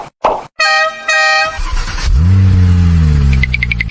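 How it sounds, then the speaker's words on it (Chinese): A toy school bus sounds an electronic horn with a couple of short toots, then plays a rising engine-revving effect and ends with a few quick high beeps, all close and loud. "我是学生，我要坐着校车去上学。"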